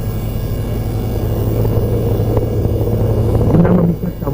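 A helicopter flies over protected forest at Lebong Hitam while spreading corn seed, its engine and rotor drone steady and fairly loud throughout, easing off near the end.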